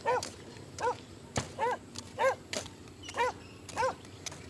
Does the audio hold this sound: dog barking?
yes